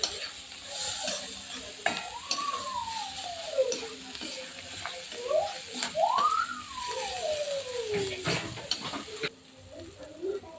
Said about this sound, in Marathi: आणि सुकट चांगली परतून झाली की त्याच्यामध्ये बारीक चिरलेली कोथिंबीर घालायची.